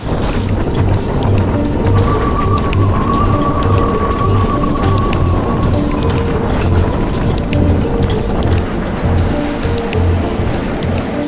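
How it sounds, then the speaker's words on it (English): Steady, dense roar of heavy rain and rushing wind at sea during a squall gusting to about 28 knots, loud and continuous, with water splashing against a boat's hull. "because we have been just hit by a massive squall."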